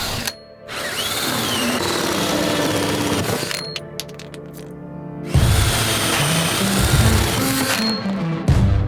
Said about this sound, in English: drilling the hole in the floor